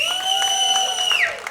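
Comedy club audience at Stir Crazy clapping and cheering, a steady wash of applause mixed with whoops and a high, sustained whistle-like tone that bends near the end.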